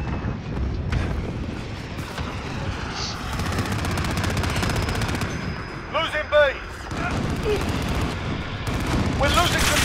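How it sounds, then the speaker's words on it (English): Ground War battle gunfire at the Port of Veransk in Call of Duty Modern Warfare 2019, steady shots and bursts amid a noisy, rumbling battlefield mix, with voices and game chatter briefly heard over it. "Stop shooting at me!"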